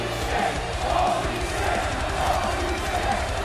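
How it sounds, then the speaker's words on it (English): A wrestling arena crowd in the WWE 2K25 video game roars steadily throughout, a continuous cheering wash with a commentator talking over it. "You can hear this crowd."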